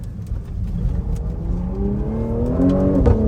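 A Cadillac CT5-V engine revs up steadily, its pitch climbing under acceleration, loud and close throughout.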